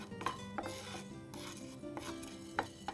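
Fenugreek seeds roasting in a pan while being stirred make soft, close scraping and rubbing with a few light clicks of the utensil against the pan, quiet and without talk.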